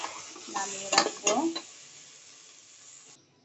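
Fried eggplant and pointed gourd are lifted off a pan, with a few close metallic scrapes and clinks of a utensil against cookware over a faint sizzle, then near quiet.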